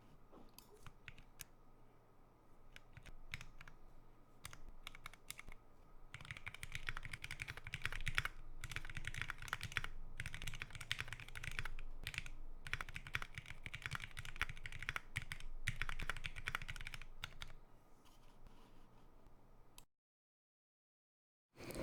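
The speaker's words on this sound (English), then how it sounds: "So you cannot hear when I'm typing?" Typing on an idb60 mechanical keyboard with a PCB sandwich mount, a steady stream of close, clicky keystrokes that grows busier after the first few seconds and then cuts to silence near the end.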